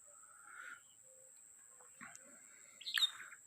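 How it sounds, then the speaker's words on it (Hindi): Small birds at a feeding spot give faint, scattered chirps and short calls over a thin, steady high background hum, with a slightly louder burst of chirping near the end. "ढेर सारी चिड़ियाँ भी आती हैं भोजन करने के लिए।"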